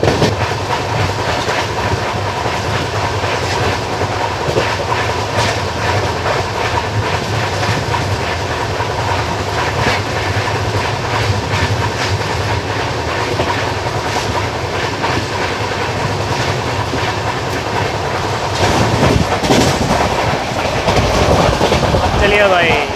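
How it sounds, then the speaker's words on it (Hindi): A train runs along the line as heard from inside the Okha–Nathdwara Express, a steady loud rumble with rhythmic clickety-clack of wheels over rail joints, swelling briefly near the end as another train passes by. "एक और कोई तो ट्रेन गई है, I think Guwahati Okha express"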